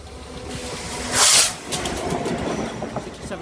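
DB Schenker Class 67 locomotive 67 013 passing a level crossing, a fairly faint rumble and rattle of the train with a brief hissing burst partway through.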